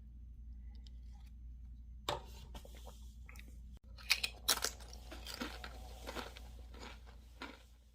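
Doritos chips are crunched and chewed close to the mic, with scattered crisp bites and quieter chewing in a faint, otherwise hushed room.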